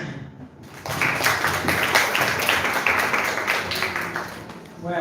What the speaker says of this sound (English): Applause one more time.